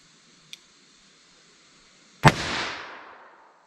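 A single sharp gunshot from a .38 Special +P revolver with a 4 1/8 inch barrel firing Magtech SJHP ammunition, loud and close, with a decaying echo afterward and a faint small click shortly before.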